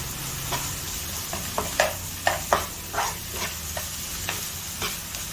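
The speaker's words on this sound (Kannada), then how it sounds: "ಇದೊಂದು ಹಸಿ ಸ್ಮೆಲ್ ಹೋಗುವವರೆಗೂ ಸ್ವಲ್ಪ ಚೆನ್ನಾಗಿ ಫ್ರೈ ಮಾಡ್ತಾ ಇದ್ದೀನಿ" Masala sizzles as it fries in a pan for squid stuffing, a steady soft hiss broken by repeated scraping stirs and small pops at close range.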